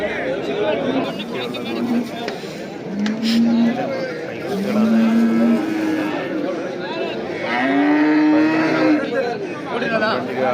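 Cattle at a busy livestock market where buffalo, bulls and cows are sold: several drawn-out moos rise over constant crowd chatter and voices.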